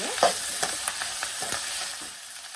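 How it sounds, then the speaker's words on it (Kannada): Curry leaves, garlic and chillies sautéing in a pan for tamarind rice, a close crackling sizzle punctuated by a few quick stirring scrapes, with no voices. "ಕರಿಬೇವು, ಬೆಳ್ಳುಳ್ಳಿ ಮತ್ತು ಮೆಣಸಿನಕಾಯಿ. ಇದನ್ನು 1 ನಿಮಿಷ ಬಾಡಿಸ್ಕೊಳ್ಳೋಣ ಎಲ್ಲ ಜೊತೆನಲ್ಲೇ."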